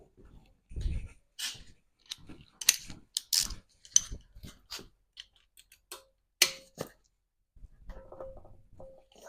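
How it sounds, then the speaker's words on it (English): A ratchet wrench straining against a tight bolt on a rear axle during a teardown of an 8.2-inch 10-bolt differential, heard as bursts of sharp clicking and metallic clanks with pauses between, close by, with no talking. "get a ratchet and see if we can break her loose here"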